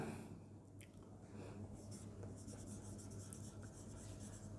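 Pen scratching on paper while working a geometry problem about two joined 64 cm³ cubes, a steady soft rustle of writing with small pauses, close and quiet, no talk.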